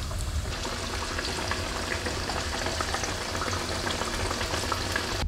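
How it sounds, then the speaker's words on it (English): Pork belly coated in tempura flour batter deep fries in hot oil, a dense, loud, continuous sizzle and bubbling crackle with no pauses. "but we are going to deep fry it now."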